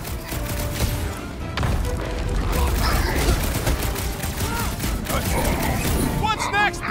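Sustained gunfire and energy blasts during a chaotic battle in the Guardians of the Galaxy video game, a dense, continuous barrage mixed with crashes and characters shouting over it.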